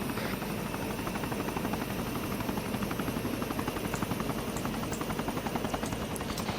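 A video game helicopter lifting off, its steady rotor thump and engine drone loud and continuous throughout, with no voices over it.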